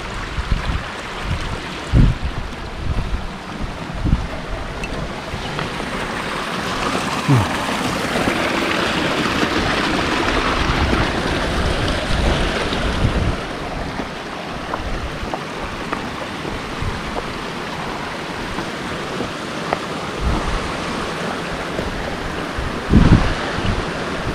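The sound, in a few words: river stream on a forest trail of Mount Slamet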